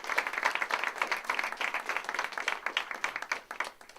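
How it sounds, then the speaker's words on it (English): A press-conference audience gives a steady round of applause, a dense even patter of many hands clapping at moderate distance for about four seconds, with no talking. "Let's give them another round of applause."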